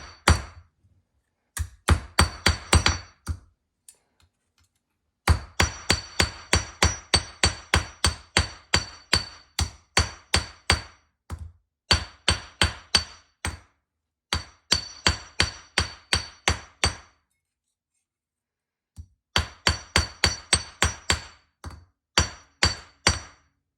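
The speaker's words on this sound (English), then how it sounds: "you can just kind of hammer it a bit to straighten it out" Hammer blows on a metal hook being straightened ring out in rapid bursts, dozens of sharp clanking strikes in quick even runs separated by short pauses.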